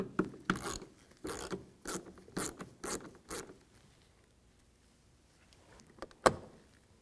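A T20 Torx driver backs a screw out of a door panel on a 2011-2015 Dodge Grand Caravan, giving several short, close ratcheting clicks in an uneven rhythm, then a pause and one sharp tick, fairly quiet with no talking.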